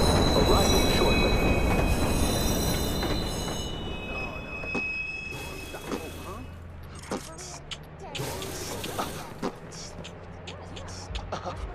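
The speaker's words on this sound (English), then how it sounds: "Eastbound train arriving shortly. Westbound train arriving shortly." An in-game train in Watch Dogs pulls into a station, a loud rumbling roll with squealing wheels that slowly fades, while station announcements and other voices can be heard over it.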